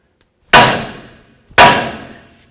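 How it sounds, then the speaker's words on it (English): A hammer strikes the steering knuckle of a 2007–2014 Cadillac Escalade twice, about a second apart. Each blow is a loud, sharp metallic clang with a ringing tail that fades away. "take your nice little hammer, and we're going to bonk right here on the knuckle itself."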